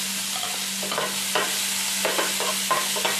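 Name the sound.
onion frying and being stirred in hot oil in pan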